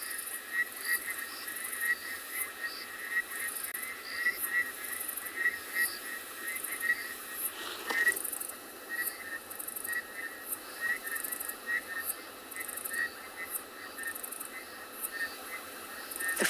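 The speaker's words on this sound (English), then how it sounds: "The frogs, the insects." A loud evening chorus of frogs and insects on safari at sunset, dense continuous trilling and pulsing calls layered together, with steady rhythmic chirps filling the air and no birds.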